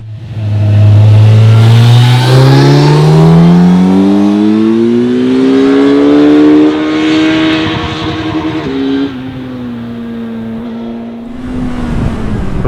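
A 2025 Kawasaki Z900 motorcycle engine revs loud and close, its pitch climbing steadily through a long pull, then easing off and dropping back.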